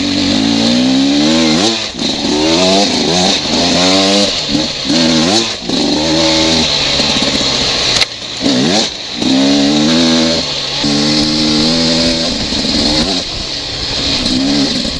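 A Beta 300RR two-stroke dirt bike engine on a break-in ride, loud and close, revving up and down in repeated rising sweeps with brief drops between throttle bursts, steady wind noise underneath and no talking.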